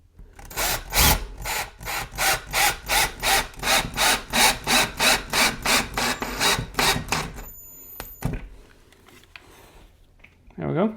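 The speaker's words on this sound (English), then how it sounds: "I know I have a stud right here, so I'm just going to drill right here into the stud." A power drill boring into a wooden wall stud, about twenty rhythmic pulsing bursts of grinding drill noise, close and fairly loud, then a pause with a few clicks and handling sounds.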